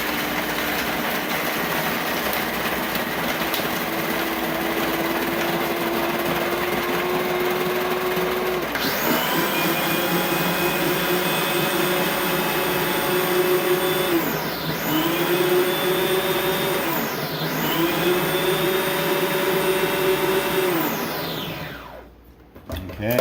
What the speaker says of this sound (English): I'm just going to use the manual, the shave, and the blend with the toggle switch here.